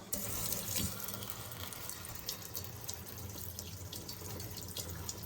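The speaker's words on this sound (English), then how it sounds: "Now you'll open the valve to this till it runs totally out." Water drains steadily from an opened valve on a home reverse osmosis system, a continuous hissing, splashing flow heard up close with no voices.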